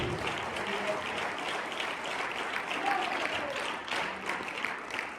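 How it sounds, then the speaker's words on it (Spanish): Loud, steady applause from a large crowd at a church service, continuous clapping filling the whole stretch without letting up. "Dele esa fuerte palmas a Cristo."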